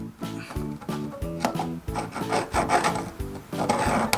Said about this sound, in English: So I'm gonna take my trusty ruler and place it on the edge and then mark it.